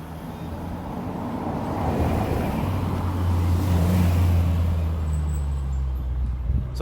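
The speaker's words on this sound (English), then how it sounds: "there's traffic around me, and so it gets kind of loud" Road traffic passes close by: a car and heavier vehicles rumble past, swelling in the middle and easing off again, with a steady low engine drone and no talk over it.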